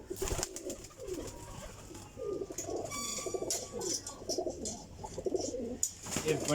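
Pigeons coo in overlapping low, rolling calls close by, a continuous chorus of many birds with a brief wing flutter or scuffle near the start.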